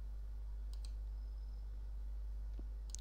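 A computer mouse gives a few quiet, close clicks, a pair near the start and another near the end, over a low steady hum.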